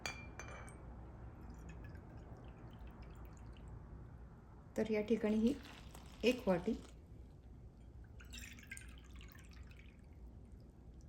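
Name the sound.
water poured from a bowl into flour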